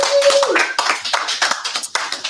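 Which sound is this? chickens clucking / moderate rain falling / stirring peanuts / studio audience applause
studio audience applause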